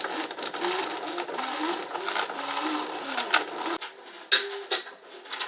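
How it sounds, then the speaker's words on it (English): A sticker printer runs in a steady mechanical whir while printing channel-name stickers, then stops and gives a few sharp clicks and snaps near the end; the sound is close and a voice speaks over it. "I'm going to print these on a sticker machine"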